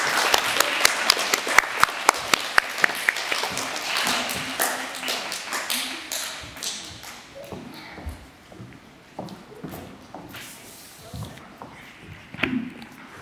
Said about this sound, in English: Let's give her another big clap.